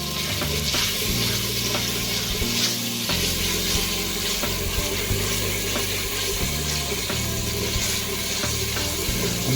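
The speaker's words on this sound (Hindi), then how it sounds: "थोड़ा सा और भूनेंगे ताकि प्याज और टमाटर यकजान हो जाए।" Onion and tomato frying together in a pot for a spicy black chickpea gravy, heard as a continuous loud sizzle with steady stirring scrapes and a wet, bubbling undertone.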